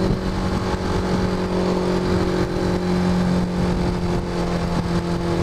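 A car engine revs and drones steadily while being driven, a continuous loud hum with sustained engine tones and no breaks.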